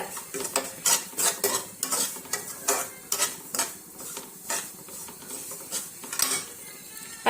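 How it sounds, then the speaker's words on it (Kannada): Semolina is stirred and roasted in a pan for upma (uppittu), with a rhythmic series of scraping strokes against the metal and a faint sizzle underneath, close and alone. "ಈಗ ಚಂದಾಗೆ ಹುರಿತನ್ರಿ ಇದನ್ನ"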